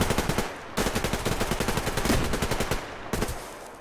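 Rapid automatic gunfire in the online shooter Survarium, a dense stream of loud close shots with a brief pause near the middle and another burst resuming at the end.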